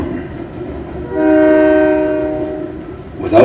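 A Bangor and Aroostook Railroad freight train in Madawaska sounds its horn in one sustained, loud, harmonic blast lasting over a second, with rumbling rail noise underneath and a brief louder rattle at the end.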